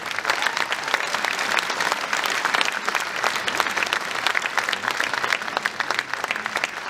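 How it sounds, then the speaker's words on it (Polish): Dense, sustained applause from a large audience fills a multiplex cinema at a Polish film premiere, steady and loud throughout with many hands close and far blending into a continuous wash. "Bardzo bym prosił, żeby te brawa nie słabły"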